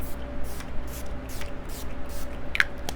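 A few short airy bursts of Urban Decay All Nighter setting spray hiss faintly over a quiet room hum, spaced apart across the moment.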